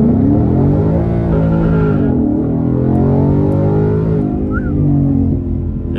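A tuned Ford Mustang GT launches hard and slides sideways, its loud, close engine roar rising and dipping through gear changes with tire noise underneath.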